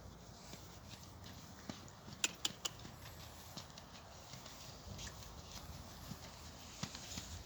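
A horse trotting during a dressage lesson, hooves striking the arena footing in a steady two-beat rhythm, quiet and somewhat distant, with a few sharper clicks in between.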